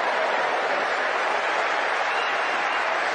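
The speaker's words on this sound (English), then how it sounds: "The biggest applause he'll get." Dense, steady applause from a large crowd, a continuous even wash of clapping at constant loudness with no breaks or talk over it.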